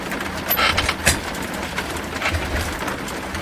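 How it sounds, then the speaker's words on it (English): Rain splashes in through an open window onto a Commodore 64, a steady close hiss of patter and drips with a few sharper spatters, and no one talking. "Rain splashing on my Commodore 64"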